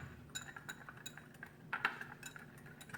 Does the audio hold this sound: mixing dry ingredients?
yes